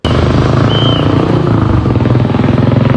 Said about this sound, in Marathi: सायलेन्सर लय बेकार आहे हो गाडीचं. नुसता आवाज करला तो.